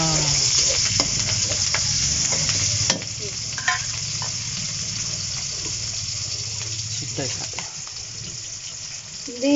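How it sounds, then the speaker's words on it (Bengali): Onions and green chilies stirred into hot oil with cumin seeds in a pan for tilapia and olive sour curry, a steady close sizzle with spatula scrapes, a louder burst as ingredients drop in, and brief speech near the end. "তারপরে দিব হচ্ছে পেঁয়াজ কাঁচামরিচ,"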